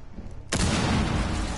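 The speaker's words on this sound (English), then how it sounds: "did you hear the gunshots?" After a short quiet moment, a loud burst of gunfire from Rainbow Six erupts and sustains as a dense, close roar.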